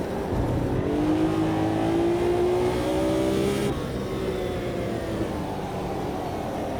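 A 398-horsepower 1970s vintage touring car racing at Laguna Seca in Automobilista 2: a loud, continuous engine drone that rises steadily in pitch under acceleration, then shifts and holds, close and alone.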